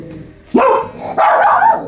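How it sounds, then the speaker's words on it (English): Indoor dog giving two short, sharp barks about half a second apart, loud and close, with quiet room tone in between and no talking. "No need to bark."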